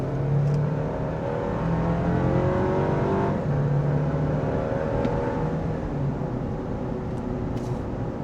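A 2025 Toyota 4Runner Limited pulls ahead under throttle, its engine note rising steadily and staying close and prominent inside the cabin, with road rumble beneath and no talking.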